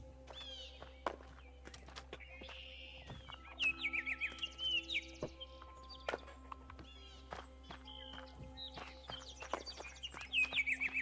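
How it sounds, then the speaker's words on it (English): Birds chirping in the video game Black Book, bright overlapping tweets and trills in bursts over a low steady hum, with occasional soft footstep-like thuds. "Those birds are just going ham."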